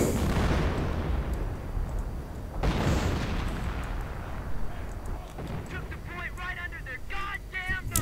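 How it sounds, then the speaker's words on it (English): Artillery shells land in a World War II strategy video game, with dense booming impacts and rumbling explosions; a voice talks over the barrage throughout. "artillery going down on the MG. And it all misses"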